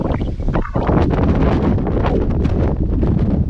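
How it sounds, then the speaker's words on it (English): Strong wind in a Lake District valley near Borrowdale buffets the microphone in a steady, loud roar with gusty surges throughout, no voices present. "even in the valley, the winds are strong"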